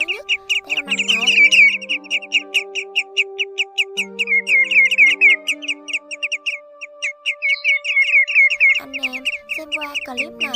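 Migratory shorebirds, common greenshank and grey-headed sandpiper, call loudly in rapid repeated chirping whistles, with steady piping series running through most of the stretch and a few pure whistled tones alongside; no talk.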